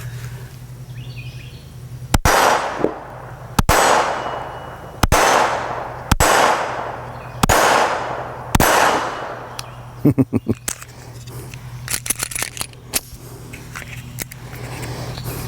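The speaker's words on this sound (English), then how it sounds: "we're gonna go ahead and load a couple rounds and shoot some of these" Several sharp pistol shots from a .22 pistol ring out at a steady pace, about six loud reports, followed by lighter metallic clicks and handling noises while shooting outdoors.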